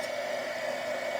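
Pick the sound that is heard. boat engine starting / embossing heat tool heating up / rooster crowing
embossing heat tool heating up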